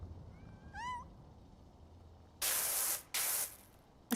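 A single short, clear meow from a cat in PowerWash Simulator 2, followed by loud bursts of pressure-washer spray hissing on and off.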